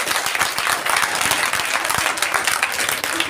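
A school audience applauds its institution after a motivational speech, loud dense clapping that holds steady for several seconds, with no talk over it.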